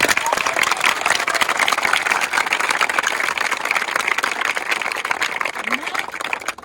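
A large outdoor crowd at a race prize ceremony claps loudly and continuously, a dense, steady patter of many hands with some voices mixed in.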